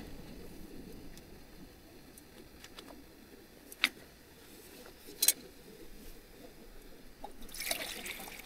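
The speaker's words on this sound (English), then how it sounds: "Let's get some water in." Water pours and trickles into a pot for a camping gas stove outdoors, a faint steady dribble with a few sharp clinks of metal near the end.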